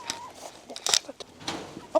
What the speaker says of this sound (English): There's maybe one chicken there